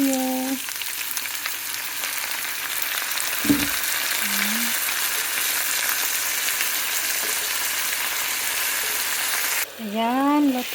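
Chicken gizzards for adobo cooking in a pan with soy sauce, giving a loud, continuous sizzle close up, with a short voice heard briefly at the start and end.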